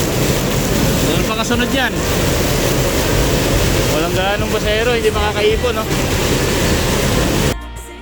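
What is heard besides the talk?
heavy rain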